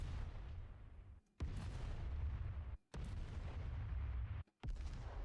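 Video game explosion effect played three times in a row, each a heavy, rumbling boom with a long, noisy decay that cuts off abruptly before the next, strong in the low end, no talking.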